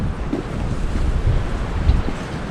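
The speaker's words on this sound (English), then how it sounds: "Now it's a bit windy." Steady wind buffeting the microphone with a low rumble throughout, loud and constant, with no voices, on a walk around a lake.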